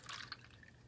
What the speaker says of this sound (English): and fill this one with water.